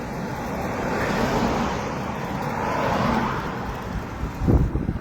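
Steady road traffic rumble near Howard Town, with a broad continuous wash of passing vehicles and a louder swell of a nearer car toward the end.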